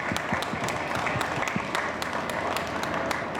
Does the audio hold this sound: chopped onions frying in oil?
no